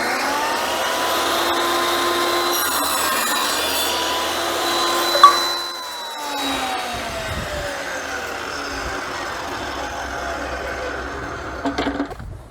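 A table saw trims a small piece of wood, its motor humming steadily with a brief cutting burst, then the blade winds down and spins to a stop.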